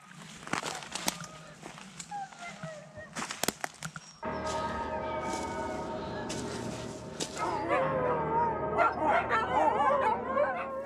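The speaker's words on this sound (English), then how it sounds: "the howl, the yelps of excitement" A pack of sled dogs, huskies, yelps and barks excitedly, then breaks into loud overlapping howls and whines, many voices together, close and continuous.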